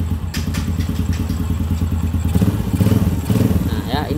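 A Honda Supra motorcycle engine idles steadily at close range, a smooth low rumble with faint clattering, and a voice speaks briefly over it.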